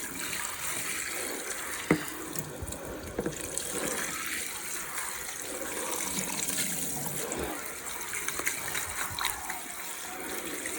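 Tap water runs steadily over a plastic tackle tray being rinsed, a continuous splashing gush with a few sharper knocks of the tray against the sink along the way.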